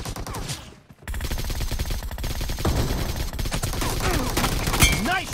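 Video game gunfire rattles in dense, rapid automatic bursts after a brief quiet gap, loud and continuous, with some sharp single shots and game sound effects mixed in.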